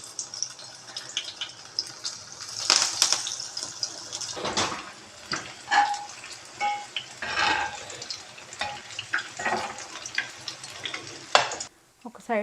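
Soya chunk cutlets fry in a pan with a steady hiss and crackle, broken by louder bursts of sizzle and clatter as pieces are moved and turned, heard up close with no talking.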